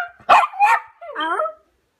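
A dog gives two quick, sharp barks close up, followed by a higher, wavering whine-like yelp, then silence.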